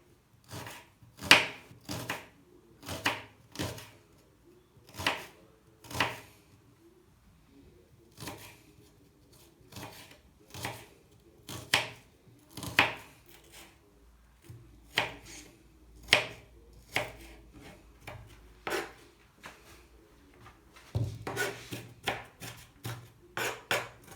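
Onions chopped by hand with a knife on a board, a close series of crisp, irregular thuds in short bursts separated by pauses, ending in a faster, denser flurry of cuts.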